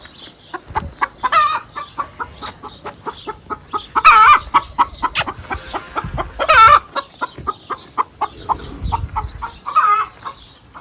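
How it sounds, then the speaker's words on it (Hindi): A hen clucks loudly and repeatedly right after laying an egg, giving rapid, rhythmic clucks broken by several louder drawn-out squawks, close by and with no talking. "ये मुर्गी बता रही थी कि मैंने अंडा दे दिया"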